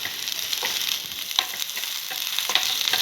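Onion and curry leaves crackle and sizzle in hot oil, a bright continuous frying hiss with small pops and spatters.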